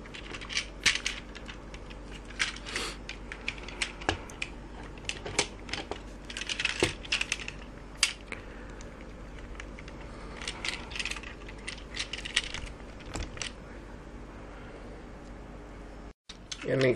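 Plastic parts of a Toyworld OrionVil transforming robot toy click and ratchet as they are folded, a string of quiet, irregular snaps and ticks heard close up.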